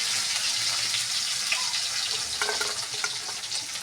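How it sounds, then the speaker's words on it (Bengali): Chopped garlic and dried red chilli fry in hot oil in a pan, giving a close, continuous hissing sizzle with light crackles and a few stirring scrapes throughout. "রসুন কুচিটা ভালো করে একটু ভাজা"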